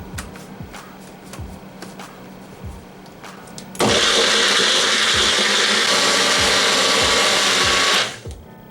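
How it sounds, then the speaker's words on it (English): A kitchen blender grinds about seven or eight pieces of cassava into a curry base, starting abruptly with a loud, steady high-pitched whir that runs continuously for about four seconds before cutting off. "pieces of cassava and grind it to make our curry base"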